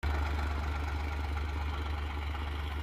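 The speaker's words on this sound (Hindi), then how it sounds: "इस तरह से मैं इसकी कटाई कर रहा हूँ ट्रैक्टर से" A tractor engine runs while cutting a green manure crop in a field, giving a steady, close, heavy low drone with a rough mechanical rumble and no variation.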